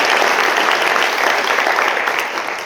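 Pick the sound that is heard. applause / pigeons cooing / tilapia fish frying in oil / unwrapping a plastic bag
applause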